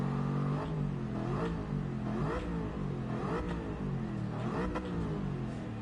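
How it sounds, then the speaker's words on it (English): Car engine in the Gran Turismo 7 racing game, revving up and down repeatedly with a continuous mid-pitched drone and rising whine, heard alone without talk. "Which might make you question why I'm revving the engine when that does use more fuel."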